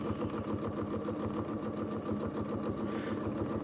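A sewing machine stitches free-motion feather quilting in a rapid, even needle rhythm with a steady motor hum, close and alone.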